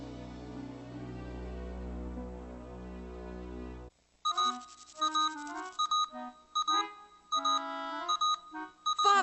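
An electronic alarm in a hospital setting goes off in an animated series: a sustained droning tone first, then a run of irregular, stuttering beeps and bleeps of varying pitch, fairly loud and close.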